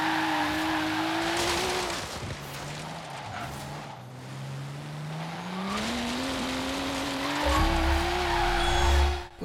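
Engine and tire squeal of a Nissan Silvia Spec-R drifting across an airport runway in Forza Horizon 3, with a long sustained screech whose pitch wavers as the throttle varies, loud and steady, ending in a heavier engine surge.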